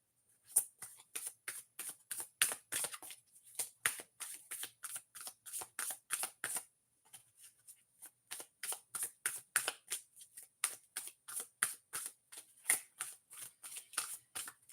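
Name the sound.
shuffling a deck of cards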